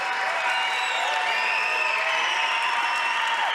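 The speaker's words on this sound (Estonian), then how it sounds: "Aplaus Karol Kennet Lootus!" A crowd in Pärnu applauds and cheers for fighter Karol-Kenneth Lootus at THE CLASH 2 combat event, a steady wash of clapping with whistles and shouts rising above it.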